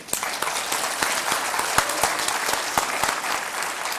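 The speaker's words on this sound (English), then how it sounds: "I would like to request you to give a big clap for all the speakers here." A workshop audience claps steadily and evenly for the speakers for a few seconds, a dense patter of many hands with no voices standing out.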